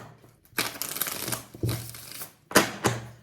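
A deck of Shadowscapes tarot cards with watercolor art being shuffled, with several loud, close riffling and crinkling bursts separated by short pauses.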